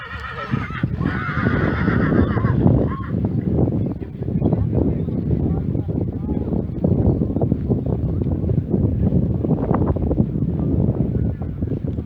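A horse whinnies outdoors at a regional horse championship show, heard under heavy wind noise and a steady rumble of the open-air setting, with people faintly talking nearby.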